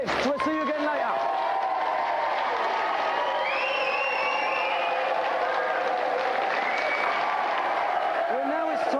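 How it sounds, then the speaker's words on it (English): Studio audience applauds and cheers steadily for two finalists on a video games TV show, a continuous loud wash of clapping with some whoops, an announcer's voice audible over it. "let's have a big round of applause for our two finalists"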